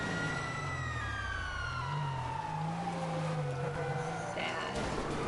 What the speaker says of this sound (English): Listen to my siren.